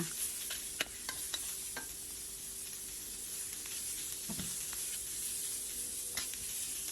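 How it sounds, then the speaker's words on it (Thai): Minced pork and onion stir-frying in a pan, a soft continuous sizzle and hiss with occasional spatula taps and scrapes against the pan, fairly quiet and with no talking. "ผัดไปเรื่อย ๆ จนหมูเป็นสีขาวแล้วก็สุกเลยนะคะ"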